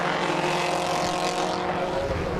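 A pack of racing cars, among them an Alpina BMW, an Elva, an Alfa GTM and a Lotus Cortina, roars past coming off a final corner, with dense overlapping engine noise, loud and continuous.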